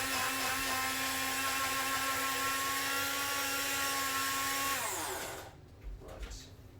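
An electric grinder whirs steadily while grinding dried rose petals for rose-infused jojoba oil, a loud, even motor whine that winds down and stops near the end, leaving faint handling noises.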